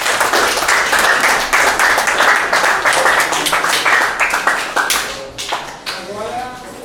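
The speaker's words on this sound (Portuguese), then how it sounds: "então palmas para eles" A school class applauds students after a debate, close loud clapping from a room of hands, fading into scattered claps and chatter toward the end.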